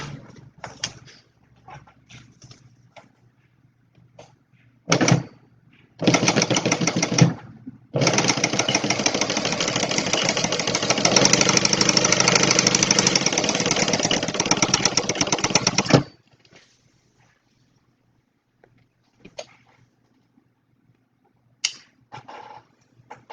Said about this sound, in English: I'm just going to stitch straight down the center there.